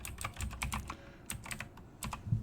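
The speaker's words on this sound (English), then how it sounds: "we're going to type in TinkerCAD" Computer keyboard typed on in quick irregular bursts of crisp clicks, with brief pauses between runs, close and fairly quiet, no voices.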